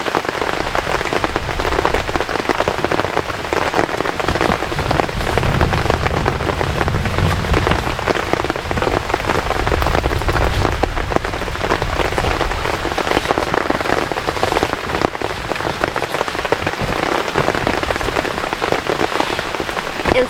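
Heavy rain drums hard and steadily on a camping tent during a severe thunderstorm, a dense continuous patter with no voices.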